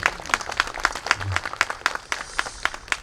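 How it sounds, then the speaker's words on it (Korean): Attendees at a memorial ceremony applaud briefly, with a few distinct claps from a modest crowd over faint room noise. "박수 한번 부탁드리겠습니다."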